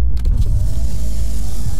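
A taxi drives along in the game Road 96, with a steady low engine rumble and road drone held loud and continuous throughout, with no voices.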